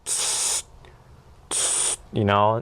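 A Flairosol continuous spray bottle used for car detailing gives two sustained hissing sprays of about half a second each, separated by a pause, and then a short tonal squeak or voice.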